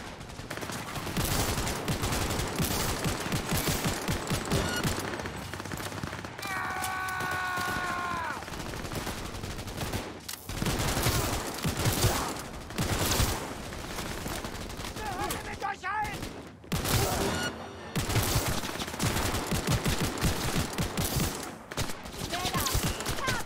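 Gunfire in Cyberpunk 2077 crackles in dense, repeated bursts of rapid shots throughout, with brief louder volleys, under occasional speech and game sounds.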